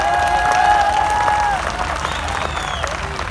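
Steady, loud audience applause at a mushaira poetry gathering in Karachi, dense and continuous, with a sustained tone and some crowd noise over the first half before the clapping carries on alone.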